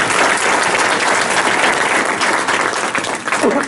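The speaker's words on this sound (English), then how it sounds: "Let's give him a round of applause." Audience applause fills the room, a dense, loud burst of clapping from a crowd that holds steady for a few seconds, close and continuous.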